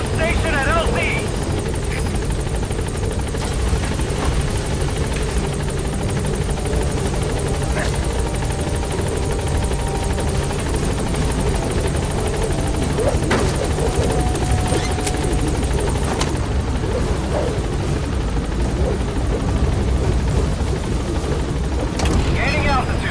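The B-Quad helicopter in Metal Gear Solid V thumps loudly and steadily as it arrives at the landing zone, its rotor drone continuing throughout with game voices and faint gunfire mixed in.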